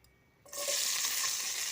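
Chicken and vegetables for khichuri begin sizzling loudly in a hot pan, a sudden burst of frying that settles into steady close crackling with light stirring.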